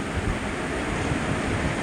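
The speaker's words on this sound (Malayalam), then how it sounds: "പക്ഷേ കടൽ കയറി വരുന്നുണ്ട്." Sea waves rolling in at Ambalappuzha beach on the Kerala coast, a steady broadband wash of surf mixed with wind buffeting the microphone, loud and continuous throughout with no talking.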